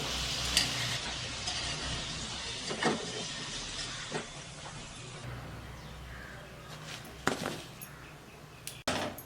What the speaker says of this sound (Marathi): बाकीच्या बी अशा तळून घेऊ दुसऱ्या पण तळ्यात